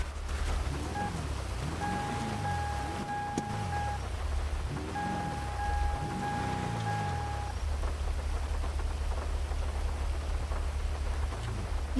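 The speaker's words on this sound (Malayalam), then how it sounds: "ഈ മഴ എന്തിനാ ഇട്ടേക്കണേ?" Rain falls in a video game roleplay, a steady hiss of rainfall over a low background hum, with electronic tones and sweeping whooshes from the game passing through the first half.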